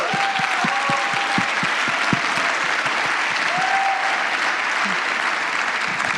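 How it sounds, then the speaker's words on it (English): Audience at a general assembly applauding: steady, dense clapping from a large crowd for the whole stretch, fairly close and even, with a few louder individual claps near the front. "Please, round of applause to Lucia."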